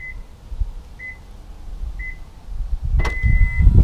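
Short electronic beeps repeat once a second as a car's auto-relock timer runs, then a longer tone sounds as a loud mechanical clunk and rumbling noise rise up close.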